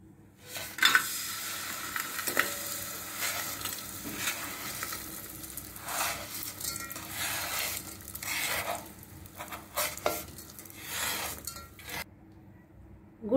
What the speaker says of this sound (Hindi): घी पिघलने के बाद में हम इसमें गुड़ डालने वाले हैं।